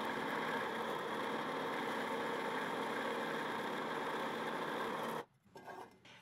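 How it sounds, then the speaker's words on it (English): Corners are cut off an etched drill index block: a steady, loud mechanical cutting whir runs continuously for about five seconds, then stops abruptly, leaving faint uneven clatter at the end. "Now I'm cutting off the corners"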